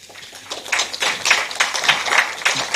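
An audience applauds a panelist at a community event, a brisk patter of many hands clapping steadily for a few seconds.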